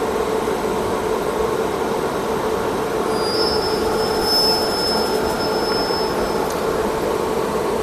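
A train sets off on the Asarva to Udaipur route, its wheels rumbling steadily and loudly, with a thin high wheel squeal drawn out midway and no voices.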